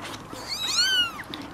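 Several kittens in a bucket meow in high, rising-and-falling cries, one clear call swelling in the middle of the short stretch with fainter mews around it, close and alone without talk.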